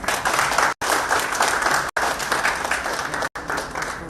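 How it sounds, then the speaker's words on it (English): Loud applause from an audience greeting a dance performance by a global dance academy, dense and continuous, broken by three very short dropouts. "with your huge round of applause"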